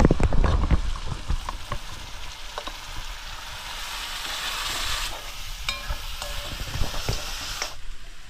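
Onions frying with chili powder, turmeric, garam masala and a ground spice paste for a fish curry, a steady hiss and crackle with spatula scrapes and occasional pops, no talking.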